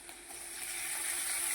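Ginger-chili paste fries with garlic in a pan, a faint high hiss of sizzling that swells a little louder over a second and a half, with a low steady hum under it.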